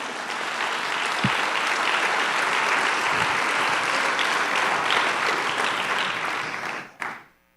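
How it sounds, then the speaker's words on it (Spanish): A church congregation claps together in sustained, even applause for about seven seconds before it cuts off abruptly, followed by a brief thump and near silence. "Si le vamos a dar un aplauso, démosle un aplauso junto con Ramón."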